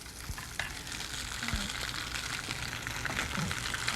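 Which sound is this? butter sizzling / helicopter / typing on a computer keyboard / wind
butter sizzling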